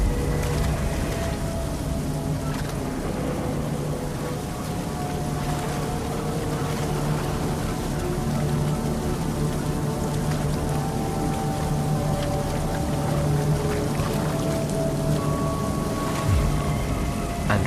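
Rushing water at river falls where bears fish for salmon, a dense, loud, continuous roar of broadband noise with no breaks or talk.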